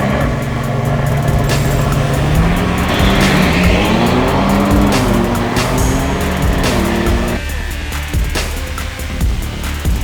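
A Toyota LandCruiser 300 Series drag races a Ford Raptor, engines roaring loud and continuous with rising revs as the vehicles launch and pull away, the sound dropping slightly near the end.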